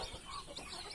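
Mother hen clucking softly on a nest where duck eggs were left for her to hatch, a few low, faint clucks over steady background noise.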